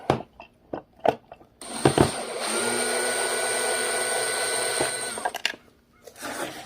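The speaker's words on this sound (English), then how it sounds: "Some people will tell you not to use a power tool to take these apart." A power tool whirs steadily for a few seconds unscrewing screws from a space heater, a high motor whine between short clicks and clatters before and after.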